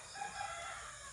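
A rooster crows in a sustained call among tethered farm chickens on a Filipino yard, moderately close and steady through the short moment with no voices.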